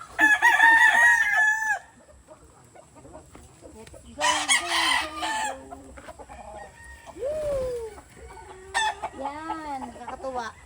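Purebred Kelso chickens in a breeding pen crow loudly and repeatedly at close range, the long crows broken by gaps of softer clucking, with no talk over them.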